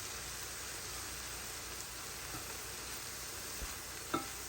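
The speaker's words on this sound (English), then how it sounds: "we do want to cook this flour a little bit before we add the liquids in here" Flour cooking in a pan for chicken pot pie filling gives a steady, soft sizzle with faint stirring scrapes and one brief louder tap near the end, heard alone with no talking.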